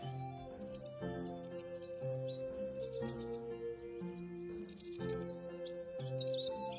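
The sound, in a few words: birds singing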